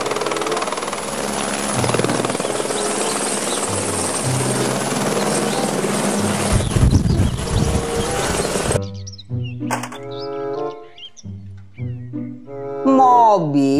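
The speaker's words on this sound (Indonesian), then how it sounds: "Helikopter." A toy helicopter makes a loud, steady buzzing rotor drone with a rhythmic chop for several seconds, then stops and a voice speaks while another electronic siren-like tone starts at the end.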